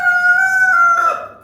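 A Barred Rock rooster in a barn pen gives a single loud, close crow, a held tonal call that drops and fades at the end.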